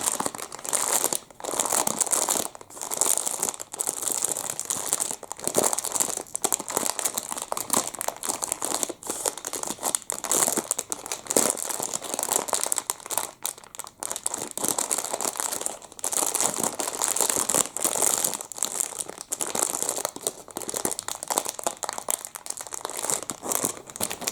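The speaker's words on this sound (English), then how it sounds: "you can unwrap the double chocolate muffin" Crinkly wrapper rustles and crackles continuously as a double chocolate muffin is unwrapped, close and steady with no talk over it.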